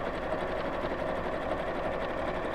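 A sewing machine stitches a decorative line on fabric close to the edge of a tote bag, a continuous even buzzing hum of rapid needle strokes, near and steady, with no talking.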